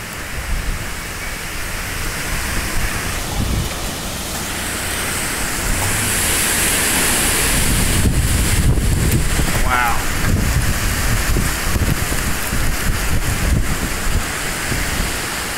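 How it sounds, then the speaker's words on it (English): Strong storm wind in Muskogee, Oklahoma roaring continuously with gusty rushing and rain-like hiss, loud and close to the microphone, building slightly toward the middle and holding steady. "It's blowing hard enough to strip leaves off a tree."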